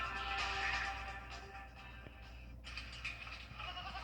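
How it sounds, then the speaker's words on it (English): Goats bleating in a short burst within a local TV news broadcast, several animal calls close by and fairly loud against steady background noise, with no talk over them. "What's with all the goats?"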